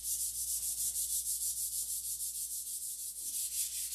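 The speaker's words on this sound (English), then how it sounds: "Just have to do more sanding." Hand sanding a painted surface produces a steady, close rasping scrub in even back-and-forth strokes, several per second, with no voices.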